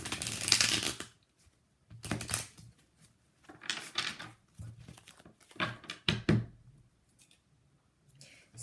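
Tarot cards being shuffled by hand, several short riffling bursts separated by brief pauses, close and crisp with no talking.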